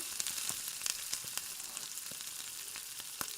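Chopped onions and green chillies frying in a pan of hot oil with cumin and mustard seeds, a close, steady sizzle with scattered sharp crackles and pops throughout.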